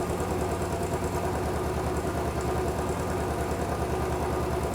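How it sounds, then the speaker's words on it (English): Royal Enfield Bullet 500 EFI single-cylinder motorcycle engine, fitted with a racing fuel module and performance air filter, idles steadily with a dense, even thumping pulse, close and loud, with no talk. "The engine revs have gone up, and actually they're going up and down."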